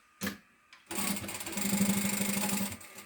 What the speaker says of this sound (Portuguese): E agora vamos virar e vamos passar uma costura aqui pelo foame